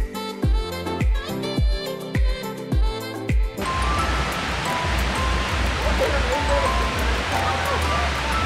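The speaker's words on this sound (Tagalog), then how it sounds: "The Crack Falls." Crack Falls at San Benito Falls, a steady, loud rush of falling water that takes over after a few seconds of rhythmic music.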